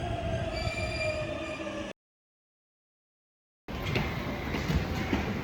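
A JR East train arriving at Omiya Station, Japan, rumbles with high metallic wheel squeals, cuts out to silence, then returns as a loud rolling clatter and hiss.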